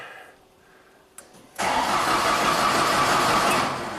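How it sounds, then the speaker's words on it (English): A faint click, then a Genie lift's engine, unused for four years, cranks steadily for about two seconds without catching before winding down. "Okay, now it's a crank, no start."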